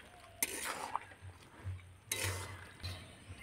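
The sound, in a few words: stirring boondi in sugar syrup in a pan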